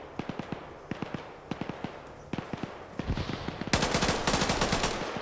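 Gunfire in an OFCRA PvP shooter match, a three-way fight: repeated short bursts of automatic fire crack out in quick clusters, growing denser and louder toward the end into a sustained, continuous volley.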